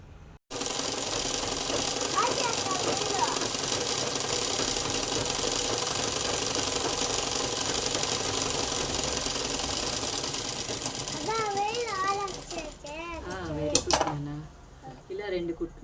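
A sewing machine stitches a crop top in one long, steady run, its fast mechanical whir loud and close, then slows and stops near the end as someone speaks briefly.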